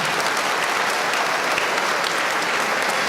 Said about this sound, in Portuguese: Todo mundo aplaudir o nosso Deus com muita força